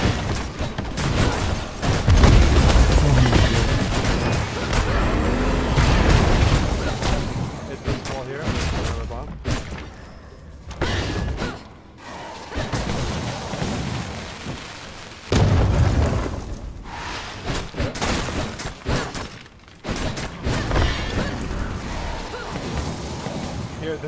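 Bursts of gunfire and booming explosions from a shooter video game, loud and chaotic in waves, with players talking over much of the action.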